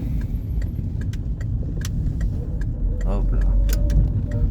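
Outdoors on foot, a truck passes on the road, its low rumble swelling toward the end over a steady background of traffic and scattered light clicks.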